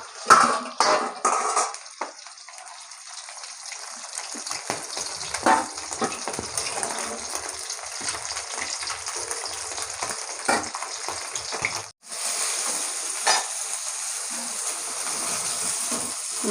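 A pot of curry with cauliflower and pre-fried rohu fish pieces simmers with a steady, close bubbling hiss, broken by soft clatters as the pieces go in and a brief drop near the end.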